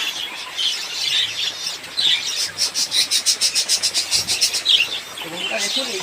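Budgerigars chirp in a rapid, high twittering run that swells into a fast pulsing burst midway, steady and fairly close, with no talk over it.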